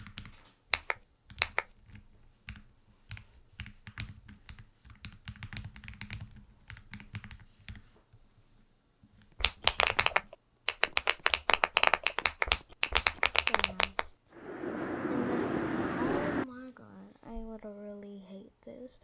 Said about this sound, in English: Wait, this is my keyboard sound? Wait, hang on, let me actually type something good.